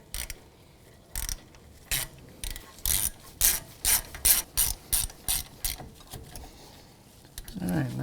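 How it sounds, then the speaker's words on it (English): A ratchet with a 17mm socket tightens brake caliper bolts on a 2007-2013 Acura MDX, giving quick bursts of clicking, close and crisp, with a short pause and rustling at the end. "with a 17mm socket, we'll snug these down"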